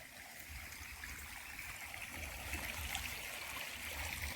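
Irrigation water flows through a pigeon pea field with a faint, steady trickling rush that is continuous and distant-sounding, with no voices over it.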